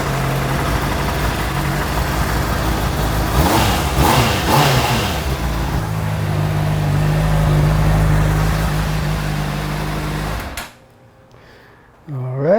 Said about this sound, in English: we're going to start the bike up, let it get a little warm